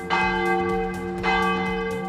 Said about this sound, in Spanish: para la gente es muy significativo el toque de la campana